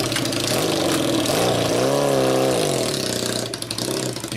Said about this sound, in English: here with the Royal Enfield, Arizona Royal Enfield. I'm gonna go do for a little ride here.